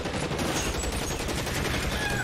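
Dense, continuous gunfire from the L.A. Noire video game in the finale mission, a rapid machine-gun-like fusillade filling the whole moment at steady loudness with no pauses.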